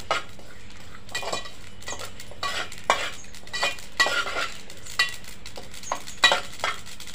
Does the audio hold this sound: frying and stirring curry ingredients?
yes